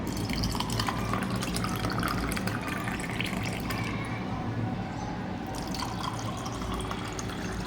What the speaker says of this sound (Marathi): आता आपण या ग्लासांमध्ये सरबत काढून घेऊया।